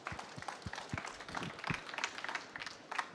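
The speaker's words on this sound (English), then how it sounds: "Round of applause, please." A keynote audience claps in a faint, scattered round of applause, a quick patter of many hands heard from a distance in a hall.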